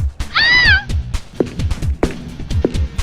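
Cartoon cats meowing in a Happy Tree Friends animation, one long bright wavering meow early on, followed by several short clipped mews and thumps in a busy, loud mix.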